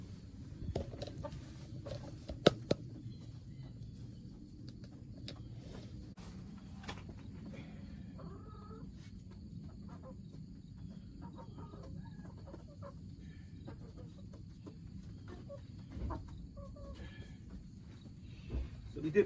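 Farm chickens, seven hens in a coop area, clucking softly and intermittently over low background noise, with a few sharper knocks and occasional louder squawks across a long stretch.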